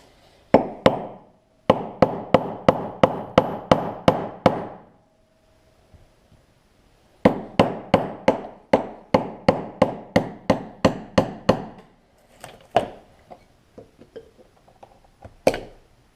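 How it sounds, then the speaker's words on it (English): Rapid metal hammer strikes on a flat blade ring out in quick bursts while driving out a Yamaha Blaster wheel bearing seal, pausing briefly between runs, then a few scattered taps and one last sharp hit. "you're going to hammer in on the side of this seal until you're able to get it to pop."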